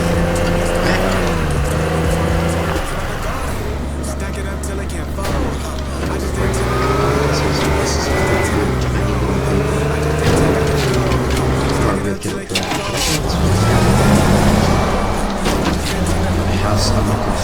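A car driving in the video game Teardown, a loud continuous engine drone with a shifting pitch and mechanical rattling throughout, plus a brief dip near the end.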